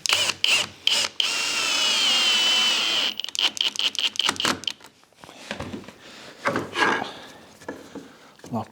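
A screw driven with a power drill into a wooden workshop push block: a steady high whine for about two seconds, bracketed by short bursts, followed by scattered knocks and rubbing handling noises, close and fairly loud.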